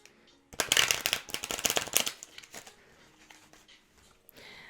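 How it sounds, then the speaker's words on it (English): Mystic Monday tarot cards being shuffled up close, a quick run of crisp riffling flutters lasting about a second and a half, then softer scattered card slides and taps trailing off, with no talking. "Let me do some shuffling."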